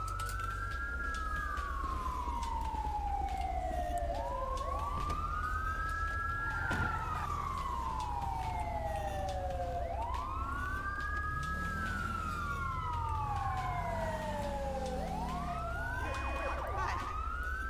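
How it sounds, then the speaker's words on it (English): An ambulance siren in the GTA V LSPDFR police game wails in long rising and falling sweeps, steady and moderately loud over a low engine and traffic rumble, with a second siren overlapping near the end. "there goes the ambulance going the wrong way"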